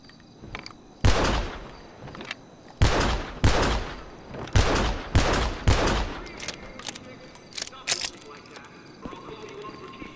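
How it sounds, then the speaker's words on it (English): Loud double-action revolver shots from GTA Online ring out one at a time at an uneven pace, each sharp crack trailing into a short echo, with a few softer clicks and game effects between them and near the end. "That's probably like one of the best gun sounds I've ever heard on any GTA gun."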